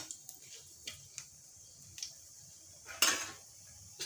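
Whole dried red chillies being stirred in a pan for bottle gourd pickle, giving sparse, faint clicks and light scraping ticks from the utensil against the pan, with no voices.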